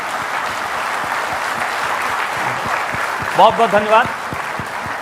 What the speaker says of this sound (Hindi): वो लोग हाथ उठा के तालियां बजा के स्वागत करें